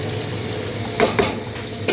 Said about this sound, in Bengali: হাই স্পিডে সুন্দরভাবে বেগুনটা ভাজা হয়ে যায়